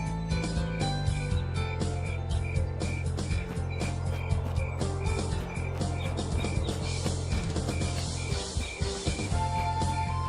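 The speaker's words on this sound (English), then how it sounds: "I love that you hear crickets and things." Night ambience in the video game Mabinogi Project Eternity, a dense chorus of rhythmic insect chirps and croaking calls pulsing steadily over a low drone, loud and continuous, with no talk.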